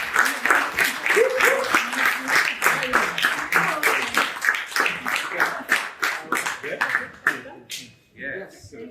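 A crowd at a rites-of-passage graduation ceremony for a manhood academy claps in a dense, loud round of applause for about seven seconds, then it thins to a few scattered claps as a voice begins speaking.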